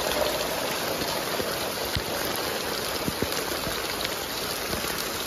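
Steady outdoor rain falling, a constant dense hiss of drops with a few sharper drips striking a surface, even and unbroken throughout, with no voices.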